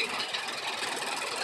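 A tractor engine runs in a steady, close, rumbling drone for a brief moment in Novosibirsk's Central Park, with no talk.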